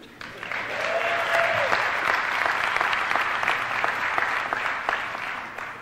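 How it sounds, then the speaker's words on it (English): Graduation audience at the Culinary Institute of America cheering and applauding, a dense, loud wash of clapping with whoops rising through it, sustained evenly for several seconds. "That's where you cheer."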